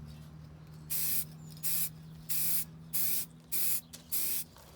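Six evenly spaced hissing bursts from an aerosol spray can coating rusty Raleigh Burner BMX bike parts, each lasting about half a second, close and clear against a quiet background.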